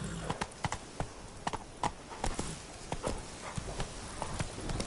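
Horse hooves clip-clop at a steady trotting rhythm in The Witcher 3 on PS4, crisp close hoof strikes repeating over a quiet background.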